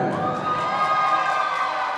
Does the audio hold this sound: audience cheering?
yes